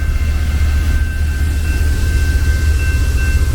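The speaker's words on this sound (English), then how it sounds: "So the train is coming." A train approaches along the Seattle waterfront with a loud, steady low rumble and a faint high whine, heard from nearby outdoors with no talk.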